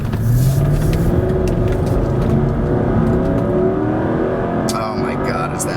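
A 2006 Mercedes-Benz SL500 AMG Sport Roadster engine pulls hard from inside the car, its note rising steadily in pitch as it revs up through the gears, loud and continuous throughout.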